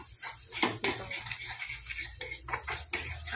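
Paneer and green peas sizzle in oil in a pan. A steady fry runs throughout, broken by scraping and clinks as a spoon stirs against the metal, with no talking.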